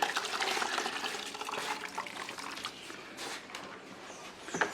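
Grated coconut is squeezed by hand in a bowl of water to draw out coconut milk for homemade oil, giving a steady, soft sloshing and splashing with faint squelches and no voices.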